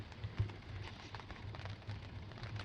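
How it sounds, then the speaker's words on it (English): Light rain falling in a lakeside wilderness during a June canoe trip, with soft scattered raindrop patter and a low steady ambient hum throughout, no voices. "A few raindrops falling still here and there."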